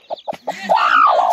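Local village chickens at a home: a few short close clucks, then a louder, drawn-out rising squawk that runs on to the end.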